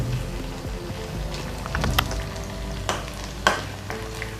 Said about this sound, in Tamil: இப்போ கனவா நல்லா ஃப்ரை ஆகிடுச்சு.